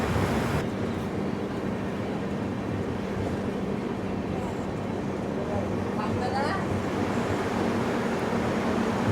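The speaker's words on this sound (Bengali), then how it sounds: "ট্রেন ছেড়ে দিল 2 মিনিটের মধ্যেই" Indian Railways 13145 Radhikapur Express pulling out of platform 3 at Nabadwip Dham station, a steady broadband rumble of rolling wagons that holds throughout, with brief faint squeals in the middle.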